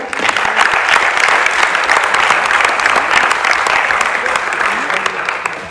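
Loud, dense applause from a convention audience greeting invited speakers at a morning session, a continuous crackle of many hands held steady for several seconds, with a voice faintly underneath.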